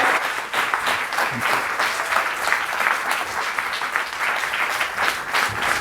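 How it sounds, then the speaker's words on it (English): A conference audience at a closing plenary claps steadily for several seconds, a dense even patter of many hands with a few murmured voices underneath. "So I'd like a big applause for Angelo Berbotto."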